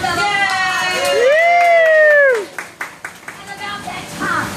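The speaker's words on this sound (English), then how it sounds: "Give her a big round of applause." Cheers and shouts from a crowd at an outdoor community event, including children's voices, with loud drawn-out whoops up front, then scattered claps and calls that fade into lighter crowd noise.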